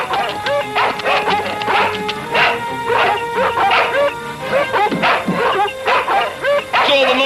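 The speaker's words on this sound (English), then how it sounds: "What's all the noise about? Have you dogs gone crazy?" Several dogs barking together in a cartoon setting, a loud, close jumble of overlapping barks, yips and whimpers in an uneven, excited rhythm that never lets up.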